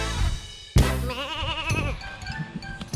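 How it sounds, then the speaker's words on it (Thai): A flock of small lambs on a farm at Huai Tueng Thao near Chiang Mai bleats for their mothers, with several wavering, close cries, one loud and sustained, overlapping against background noise. "แกะตัวน้อยๆ เห็นไหมครับ อันนี้เป็นฝูงแกะเลยนะครับ"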